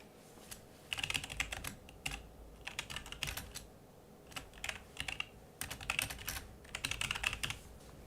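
Keystrokes on a computer keyboard while a web form is filled in during a live coding session, coming in quick irregular bursts separated by short pauses, close and fairly quiet with no voices.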